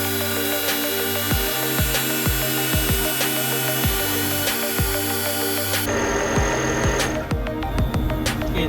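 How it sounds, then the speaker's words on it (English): A breathing apparatus air compressor runs steadily while filling a bottle to 300 bar, a loud continuous mechanical drone with a fast rhythmic pulsing beat throughout. "we are switching on our compressor for filling our bottle"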